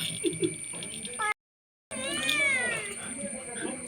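A person talks briefly, then after a short silence a cat with one blue eye and one green eye lets out one long, drawn-out meow up close.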